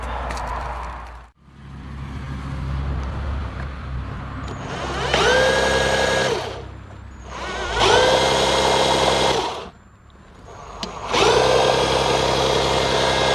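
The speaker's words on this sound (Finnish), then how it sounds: "Mä sain tähän vielä porakoneen niin pyöritellä tätä vähän" A power drill spins an Eaton M62 supercharger from a Mercedes C230 Kompressor in three long bursts with short pauses between, whirring up to a steady high whine each time, over a low background hum.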